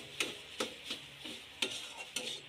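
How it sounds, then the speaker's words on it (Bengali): A spoon stirs a burger mixture in a pan, scraping the metal in about six evenly spaced strokes with a soft sizzle beneath. Close and moderately quiet, with no talking. "একটু কিছুক্ষণ নেড়ে নেব।"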